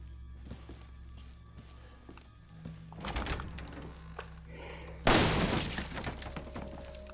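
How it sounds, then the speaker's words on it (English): Two loud gunshots ring out in Resident Evil 7 as boxes are shot, each a sharp blast with a lingering crash, over a low steady game hum. "Why are you shooting the boxes?"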